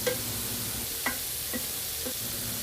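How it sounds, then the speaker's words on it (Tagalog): Beef with black pepper sizzles in a pan under a constant hissing fry, with a few light scrapes and taps from the stirring utensil spaced about half a second apart. "Halu-haluin mo lang para mag-balance na yung paminta sa baka."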